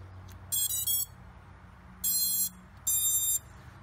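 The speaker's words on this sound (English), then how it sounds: "It should beep once. That's a capacitance beep, if you will." A drone's ESCs give shrill electronic beep tones on plugging in a 3S battery: three flat bursts, the first broken into short pulses, the last two longer, loud and close over a quiet hum.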